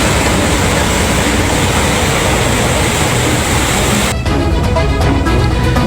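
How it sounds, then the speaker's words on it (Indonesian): A train moves slowly at restricted speed over flood-affected track in Central Java, heard as a steady, loud, broadband rumbling roar that shifts in character near the end. "kereta api pun sudah bisa melintas perlahan"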